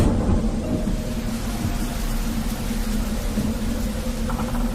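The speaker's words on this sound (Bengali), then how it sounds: "এমন সময় বাইরে আবার ঝমঝম করে বৃষ্টি নামল" Heavy rain pours steadily with rolling thunder, a loud, continuous storm wash that fills the whole stretch, used as a sound effect in a spoken story.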